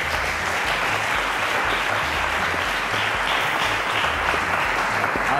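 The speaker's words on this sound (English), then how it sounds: "Ladies and gentlemen, a round of applause to Obejara" A studio audience at a televised school quiz show applauds a contestant, a dense, steady wash of clapping that holds at full strength from start to finish, with music or a low rhythmic bed pulsing underneath.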